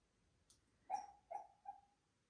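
A sleeping dog whimpers softly while dreaming, three faint, high whining yips in quick succession in a quiet room.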